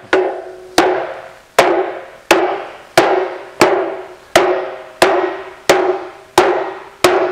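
Hammer blows shrink sheet metal, eleven sharp ringing strikes at an even pace of roughly one per second, loud and close, each followed by a short metallic decay.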